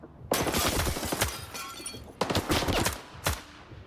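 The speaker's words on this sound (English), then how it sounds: "It sounds like I'm getting the headshot sound" Headshot hits in the S.T.A.L.K.E.R. 2 shooter: three sharp, loud cracking impacts with shattering, crunchy tails, spaced unevenly over a few seconds, with no voices.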